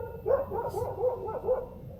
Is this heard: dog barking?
yes